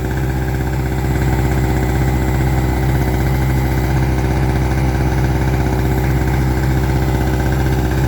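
An Ingco 900W portable generator runs close by, putting out a loud, steady, rattling drone with a fast regular pulse, much like a small motorcycle or boat engine idling, and keeps going throughout.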